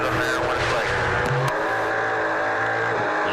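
A Mopar Dodge race car on an oval track at the 2015 Budweiser 300 roars past loudly with steady engine drone, a brief tire squeal in the middle, and race commentary running underneath.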